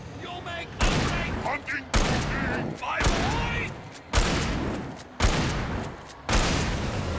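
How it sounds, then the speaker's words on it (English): Six loud, evenly spaced gunshots from Alan Wake, each a sharp blast with a ringing tail, fired at fast-moving enemies, with a voice talking between the shots. "Hold still, damn it, when I'm trying to shoot you."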